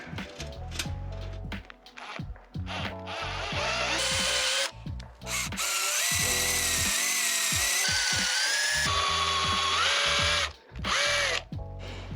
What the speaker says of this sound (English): I think I want to pre-drill it first with a smaller drill,